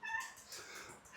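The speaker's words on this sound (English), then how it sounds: "There's a cat." A cat meows close by, a short, loud, bright call lasting about a second during a conversation about prayer and focus, with no talk over it.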